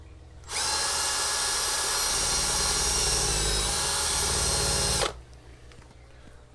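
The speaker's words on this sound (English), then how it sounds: "It don't really wanna drill through that." A power drill whirs loudly at a steady pitch for about four and a half seconds while setting up an RODI filter system, then cuts off abruptly, leaving faint background noise.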